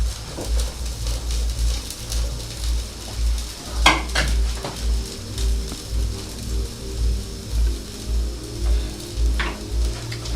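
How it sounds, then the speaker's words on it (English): Potato fries dropped into a hot pan, a continuous close sizzle with a low pulsing rumble underneath and a few sharp clatters of the pan or utensils, loud throughout and without speech. "By now it's hot. Then go in with my fries"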